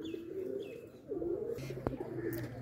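Pigeons coo close by, with low, rolling, throaty calls repeated in a short series, a faint chirp and a brief tap mixed in over mild room noise.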